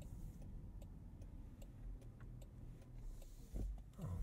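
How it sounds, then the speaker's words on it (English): Faint, regular ticking of a 2023 Range Rover Sport turn signal inside the cabin, a steady soft clicking over low road and engine hum, ending with a couple of louder thumps. "Turn signal sound."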